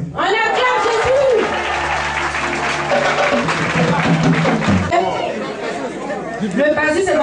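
A church congregation claps and cheers loudly and continuously at a celebration for children who passed their CEPE exams, with lively crowd chatter and shouting voices mixed through the applause.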